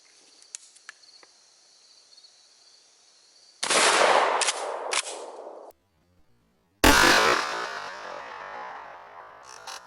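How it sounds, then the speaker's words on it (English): A KelTec KSG 12 pump shotgun loaded with #8 shot fires outdoors during a choke pattern test. Two sharp, loud blasts each ring out and decay, with faint crickets chirping in the quiet before them. "So let's take a shot down there and see how well we've patterned."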